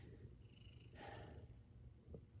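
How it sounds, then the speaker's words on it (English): A friendly cat purring softly while rubbing up against someone, with a low steady rumble and a brief breathy brush sound, quiet and close, no talk. "the cat just is very friendly and loves rubbing up against you"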